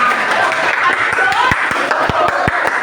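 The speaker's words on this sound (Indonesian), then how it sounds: "Tepuk tangan buat Siva." A small group claps for Siva in scattered, distinct hand claps with a loose rhythm, close and fairly loud, while voices talk underneath.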